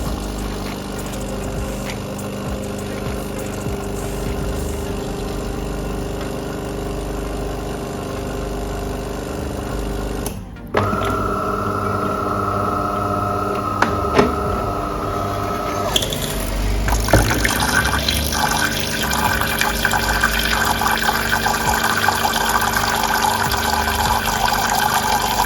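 A De'Longhi Magnifica S espresso machine running its descaling cycle gives a steady mechanical hum with liquid flowing. A brief break near the middle is followed by a louder, busier pumping and gurgling that continues to the end, with no voices.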